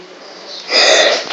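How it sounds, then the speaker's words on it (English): A single short sneeze, heard close and loud: a soft intake followed by a sharp, breathy burst that fades quickly. "Sorry, sneeze."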